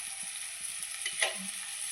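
Fish frying in oil in a clay pot (chatti) makes a steady, close sizzle and hiss throughout, with a slightly louder crackle near the middle and no voices.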